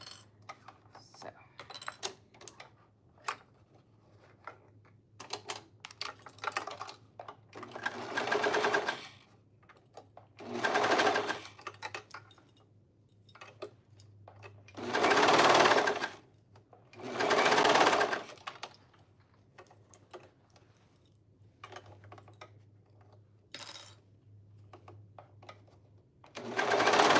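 A sewing machine stitches a neckband onto a garment in several loud bursts of a few seconds each, with quieter handling, shuffling and brief pauses between runs.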